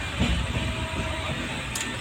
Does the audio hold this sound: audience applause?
no